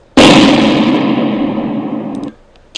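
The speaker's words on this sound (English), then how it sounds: "I believe they had some, like, explosion ones." A Flash sound-library explosion sound effect: one loud, booming blast that erupts suddenly and rumbles with a long, full-bodied roar for about two seconds before cutting off, heard alone with no talking.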